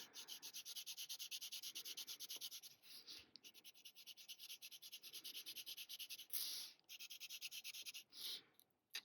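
A pencil held at an angle shades a highlight on paper for a Zentangle drawing, a soft rhythmic rubbing scratch in quick repeated strokes with a few brief pauses, close and quiet with no voice.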